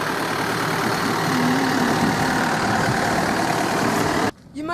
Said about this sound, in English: You may have seen a tractor go past.